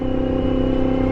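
A Yamaha MT-10 motorcycle fitted with an Austin Racing exhaust produces a loud, steady, close-up drone, rich with low harmonics and holding at an even pitch for the whole moment.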